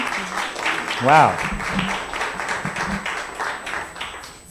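An audience applauds during a Sunday church service, a steady patter of clapping beneath a woman's spoken exclamation and continuing talk.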